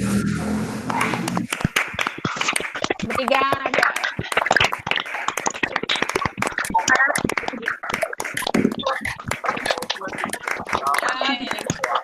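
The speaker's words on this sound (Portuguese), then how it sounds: "bater palmas para as meninas" Online participants in a psychologists' conversation circle clap over open microphones for the two speakers, giving scattered, uneven claps that run through the whole stretch mixed with voices talking.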